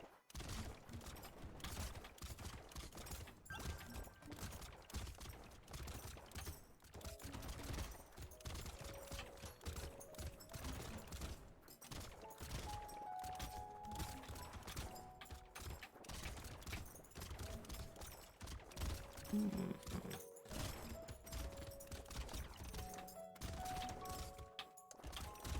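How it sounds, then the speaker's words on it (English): Grenade launchers and shredders firing nonstop in the video game Brotato, a dense barrage of rapid thumping blasts and crashing impacts with scattered small electronic tones, steady throughout and without talk. "our own grenade launchers and shredders will be doing the job fine"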